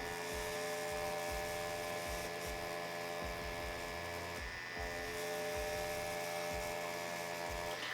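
A Mummy Anubis 4.2 tattoo machine runs steadily while lining, a continuous high electric whine and buzz. It holds the same pitch throughout, with a brief dip near the middle.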